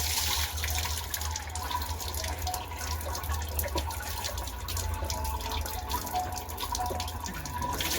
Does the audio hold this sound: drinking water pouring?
yes